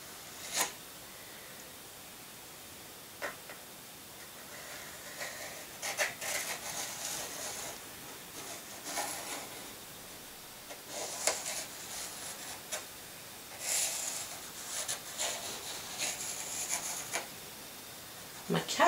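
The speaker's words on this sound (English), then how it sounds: "My cat is really interested by the noise of this pencil." A pencil sketches a rough flower outline on paper in quiet, intermittent scratchy strokes, with short pauses between bursts of drawing.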